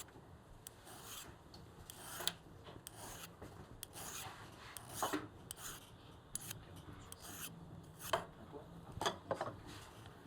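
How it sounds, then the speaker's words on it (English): A metal swan neck adjuster is worked with a hand file, giving close, steady rasping strokes in an uneven rhythm with sharper scrapes along the way and no talking. "We'll use a file to trim it."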